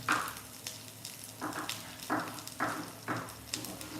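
Green bell peppers sautéing in a hot pan for a vegan chickpea scramble breakfast, a steady close sizzle that swells in several short bursts as they are stirred and tossed.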